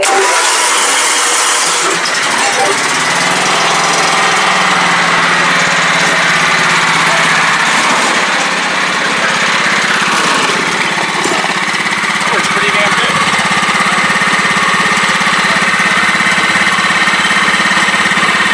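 Riding lawn mower fitted with a Peerless 820 five-speed transmission, locked differential and swapped pulley, engine running loud and close on a test drive with a steady drone that shifts in pitch, while someone talks briefly over it.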